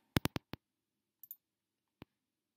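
Computer mouse clicks, close and crisp: a quick run of four, a soft double click, then a single click after a pause, in a quiet room.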